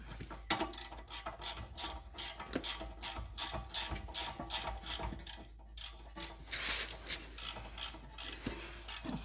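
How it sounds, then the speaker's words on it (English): A ratchet wrench clicks rapidly in repeated bursts while turning on a Honda Prelude or Accord outer tie rod. The bursts come in a fairly regular back-and-forth rhythm, close and clear, with no talk. "Need the ratchet here."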